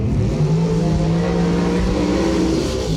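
A dragster roars past the finish line at a drag race, a loud sustained engine drone with a shifting pitch, close and unbroken, with no talk.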